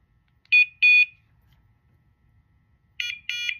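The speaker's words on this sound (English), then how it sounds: "It beeps every 7 seconds if the dog is running." A Dogtra 2700T&B pointing dog collar in mode 1 gives two pairs of sharp, high electronic beeps about two and a half seconds apart, clear and close against near silence.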